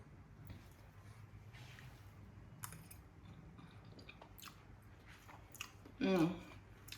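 Soft, wet chewing of a bite of Jamaican ackee and saltfish with scotch bonnet, scallion and tomato, close up and quiet, with small smacks and a brief louder vocal murmur near the end.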